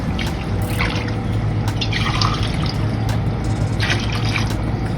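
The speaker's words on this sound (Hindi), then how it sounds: "2 गिलास असां नॉर्मल पाणी विझंदासीं" Plain water poured into a cooking pot for beef yakhni pulao, a steady trickling, splashing stream that carries on without a break and stays fairly close and clear.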